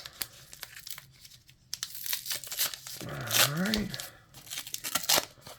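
Foil-wrapped 1990 Upper Deck trading card packs are torn open and crinkled close by, with scattered ripping and rustling bursts, while people talk briefly over the handling.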